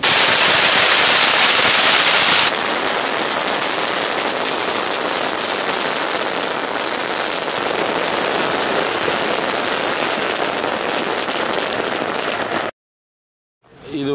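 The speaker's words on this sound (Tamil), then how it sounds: "இது வந்து ஸ்கைகிங்கோட வெடி," Dense, continuous crackling of firecrackers bursting rapidly, loud and close, starting very intense then settling into a steady crackle before stopping abruptly.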